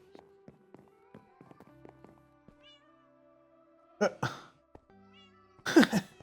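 Cats in the video game Minecraft meow twice near the end, close and clear, after a stretch of quiet clicks and soft tapping. A player speaks faintly in the background.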